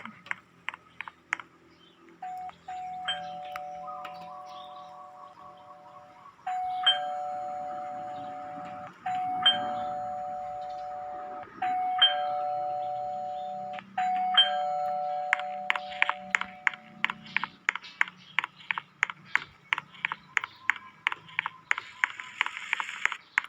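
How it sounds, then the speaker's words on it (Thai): Doorbell in a house-building video game pressed again and again, a two-tone electronic chime repeating at steady intervals, then a fast run of sharp clicking taps near the end. "เราเขียนบอกแล้วนะกดกระดิ่งบ้าง"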